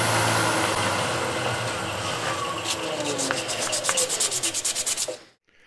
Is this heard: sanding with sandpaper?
yes